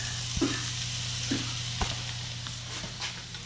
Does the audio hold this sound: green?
yes